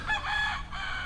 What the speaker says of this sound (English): And you hear the rooster in the background.